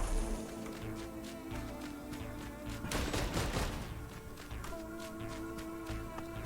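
Rapid explosions and gunfire in the video game Risk of Rain 2 form a dense, continuous barrage, with a heavier burst of blasts near the middle. No one speaks.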